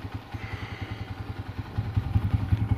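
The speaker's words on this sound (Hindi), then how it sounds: "बाइक हो गया जी हमारा स्टार्ट अल्हम्दुलिल्लाह।" A motorbike outside a service station runs with a rapid, even thumping engine pulse at close range, growing slightly louder and rougher toward the end, with no talk.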